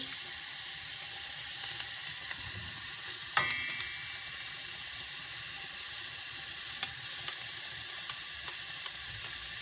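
Onion and garlic fry together in a pan with a steady, low hiss of sizzling, broken by a couple of sharp clinks.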